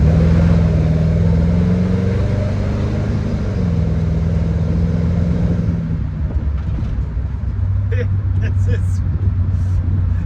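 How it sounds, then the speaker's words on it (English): A 1963 Dodge Dart Convertible exhaust gives a low, rumbling burble that runs steadily, then settles to a quieter idle partway through. "The exhaust sound, very pleasant. It just has this great burble."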